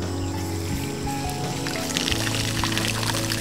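Water pours steadily from a gravity-fed pond line used to fill lower ponds and a rice paddy, a continuous splashing rush with a few faint bird calls in the background.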